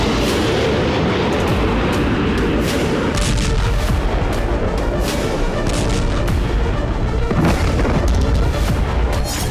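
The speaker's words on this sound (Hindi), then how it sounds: "बेलगोरोद में फिर धमाके हो रहे हैं।" Repeated heavy booms of explosions in Belgorod, Russia, during the Russia-Ukraine war, several deep blasts over a dense rumbling din, loud and reverberant as if from a distance.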